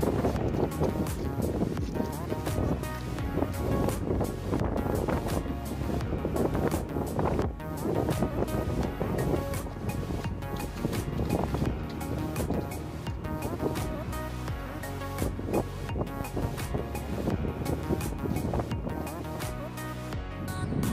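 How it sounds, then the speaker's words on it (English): Strong wind roars steadily and loudly throughout, a dense, continuous buffeting with gusty surges and no clear voices. "Horrible windy morning."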